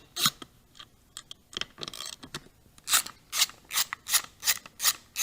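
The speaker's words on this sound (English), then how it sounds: "Back to the T25 Torx socket to remove the switch housing screws." A ratchet with a T25 Torx socket backs out the switch housing screws on a 2014-or-newer motorcycle. Scattered taps and scrapes come first, then a close, steady run of crisp ratcheting clicks in a regular rhythm.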